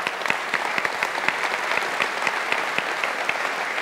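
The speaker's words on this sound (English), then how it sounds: "give him a round of applause" A church congregation gives a round of applause, dense steady clapping from many hands filling the room for a few seconds, fairly loud and close with no talking over it.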